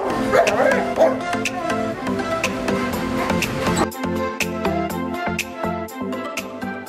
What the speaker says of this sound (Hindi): भैया के पास एक नहीं, ऐसे ही 3 डॉग हैं रॉटवाइलर के